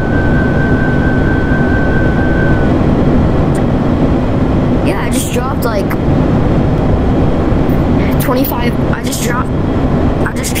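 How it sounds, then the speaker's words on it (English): In a VRChat game, a descending whistle of falling bombs dropped from a large airplane sweeps down over a steady drone of engine noise, followed by a series of muffled bursts and crackles, with voices talking throughout. "I just dropped 25 bombs. It's from the bottom of the plane. Do you hear that whistle?"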